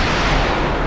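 A heavy, booming torpedo hit explosion in the submarine game Cold Waters, loud and dense, filling the whole short burst without any voices.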